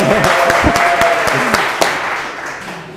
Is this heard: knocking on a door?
no